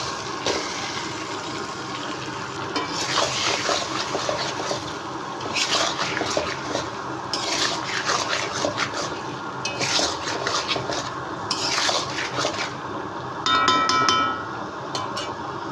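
Chicken pieces with chilli powder, cumin powder, turmeric and salt going into a pan for chicken curry, with clinks of utensils against the pan and faint sizzling throughout, busiest in bursts, no talking.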